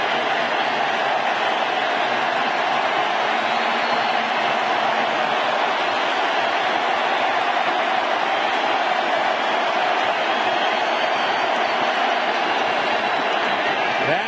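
A 2010 World Series Game 3 stadium crowd rises and cheers, a dense steady roar of many voices filling the ballpark with no break throughout.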